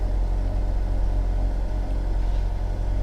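A used car's engine idles steadily after firing up, a close, constant low rumble with no talking.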